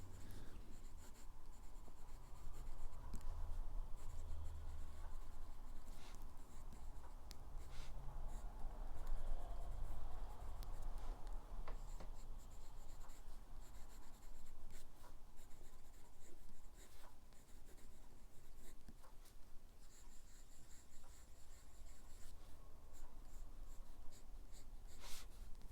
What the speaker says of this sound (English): I've really enjoyed writing with it